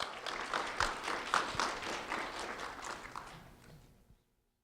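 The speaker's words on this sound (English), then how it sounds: "a round of applause for Stephanie Salazar, please." A round of applause for a student at a sheriff's office recognition event, with scattered clapping from a modest crowd that fades out after about four seconds.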